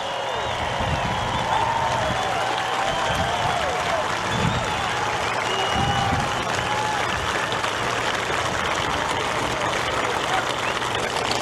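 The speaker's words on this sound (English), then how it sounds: "I want a big round of applause for all our veterans here today" Large rally crowd in Sanford, Florida applauding for veterans and law enforcement officers, a steady dense wash of clapping with cheering voices mixed in, continuous and loud throughout.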